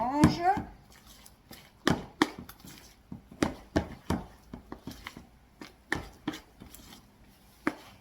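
Sourdough starter stirred by hand in a container for refreshing, giving a run of close, sharp knocks and scrapes at an irregular rhythm with no talking.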